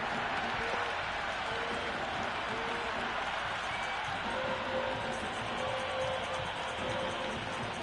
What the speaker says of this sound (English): Big crowd in already